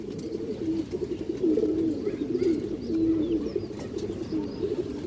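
A female tournament pigeon of the high-flying kind coos in repeated soft, low warbling rolls, close and steady over faint background noise.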